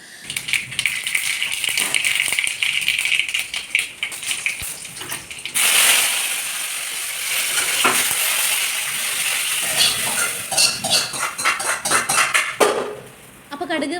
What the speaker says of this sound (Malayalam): പച്ചമുളക് വേപ്പില ഇതെല്ലാം കൂടെ വന്നിട്ട് പൊട്ടിച്ച് നമ്മുടെ സാമ്പാറിൽ ചേർത്ത് കൊടുത്തു